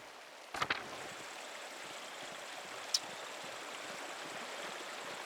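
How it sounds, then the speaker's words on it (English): A steady wash of rushing water from a video game waterfall plays on continuously and fairly softly, with a couple of brief clicks near the start and no talking over it. "Waterfall?"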